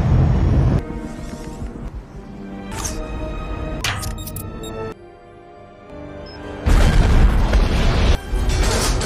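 Loud booming explosion from an explosive arrow fired by Hawkeye in an Avengers film, with heavy low-end bursts at the start and again near the end amid a dense action-movie soundtrack.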